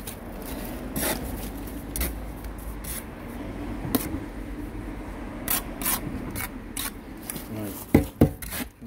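A bricklayer's trowel scrapes excess mortar off the back of a brick in a series of short rasping strokes, moderately close. A few sharper knocks land near the end.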